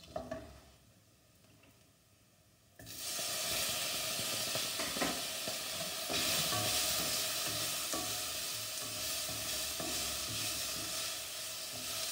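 Tomatoes hit hot oil for a lotus seed curry, bursting into a loud, steady sizzle after a quiet start, with frying hiss and occasional stirring scrapes continuing up close.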